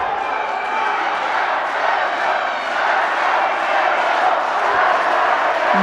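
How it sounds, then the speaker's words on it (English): A crowd roars and cheers at a youth judo match during the European Youth Olympic Festival in Tbilisi, a loud, sustained arena din with shouts rising and falling, and a commentator speaking over it. "I'm sure all of you can hear the crowd."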